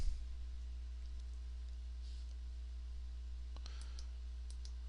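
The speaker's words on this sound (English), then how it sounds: "I'll click there, right click to finish placing our line." Computer mouse buttons click a few times, faint and crisp, over a steady electrical hum while a circuit board outline is drawn in design software.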